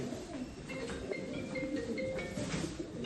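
Active pigeons, including spotted and smoky-coloured hens kept for auction, give soft, low cooing calls that repeat at close range under a constant background hiss.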